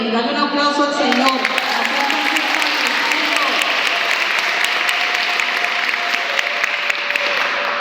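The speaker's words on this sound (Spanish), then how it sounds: "Dale un aplauso al Señor." Church congregation breaks into loud, continuous applause, dense and steady throughout, with a sung or spoken voice briefly over it at the start.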